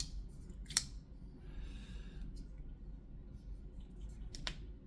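Blade of a Kershaw Iridium folding knife with reverse Tonto tip flicked open by its thumb stud, two crisp metallic snaps about four seconds apart, close and clear over a low steady room hum.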